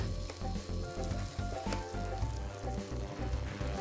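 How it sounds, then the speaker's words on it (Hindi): Ginger garlic paste frying in a pan, a loud, close, continuous sizzle with crackles and occasional stirring scrapes. "अब इसको भूनेंगे कब तक, जब तक कि अदरक लहसुन पेस्ट का कच्चापन ना मर जाए"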